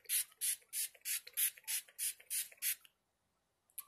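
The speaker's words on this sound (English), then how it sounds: "So I'm just going to give myself a little spritz." A handheld spray bottle of face mist spritzes in nine quick, evenly spaced bursts, close and crisp, each a short hiss, followed by near silence and a faint click at the end.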